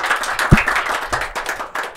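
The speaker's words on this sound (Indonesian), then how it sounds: "sekali lagi tepuk tangan teman-teman" A podcast audience in Indonesia gives a round of applause, with brisk, uneven clapping from a small group that stays fairly close and continuous for a couple of seconds.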